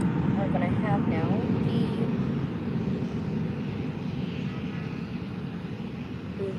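A jet airliner takes off at Faro Airport on an early morning, its loud, steady engine roar filling the whole stretch and slowly easing, while a person talks over it.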